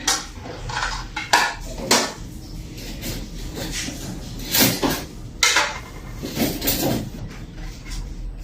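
Plates, pots and cutlery clatter and clink in a condo kitchen as a simple meal is set out, with several sharp scrapes and knocks spread irregularly through the clip, fairly close and with no talk.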